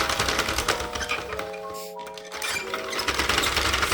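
A Sentro knitting machine being cranked while a wrap cardigan is knitted, giving a rapid rattling clatter of needles and gears that pauses briefly midway and then resumes, close and steady, with no talking.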